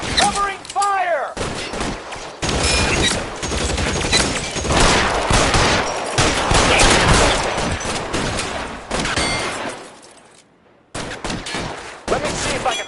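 Intense gunfire shootout in the crime video game LA Noire, with dense, continuous volleys of rapid shots and bursts that barely pause, a short break near the end before firing resumes, with brief shouted voices mixed in.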